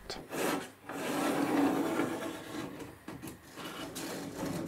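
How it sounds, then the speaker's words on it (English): A hand saw cuts through a wooden bulkhead for a camping catamaran's centerboard case, making a steady, close, rasping back-and-forth with brief pauses between strokes and no voices. "Before I cut off the unglued part of the bulkhead."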